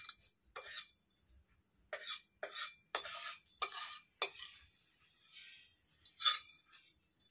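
Dried fenugreek leaves stirred in a dry wok, a series of separate scraping strokes of a spoon against metal, close and distinct, with short pauses between about ten scrapes.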